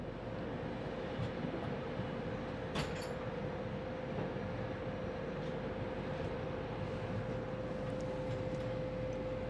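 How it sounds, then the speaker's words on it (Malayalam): A steady rumbling drone of a moving train, heard from inside, with a constant mechanical hum and an occasional faint clank. "ഇപ്പം നമ്മുടെ ട്രെയിൻ കറക്റ്റ് ഓൺ ടൈമിലാണ് ഓടിക്കൊണ്ടിരിക്കുന്നത്"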